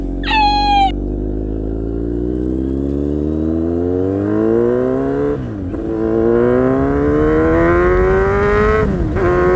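Kawasaki Z800 motorcycle with an SC Project exhaust accelerating hard on a test ride, engine pitch climbing through a rising wail, dropping briefly at two gear shifts around the middle and end, loud and close with no talking.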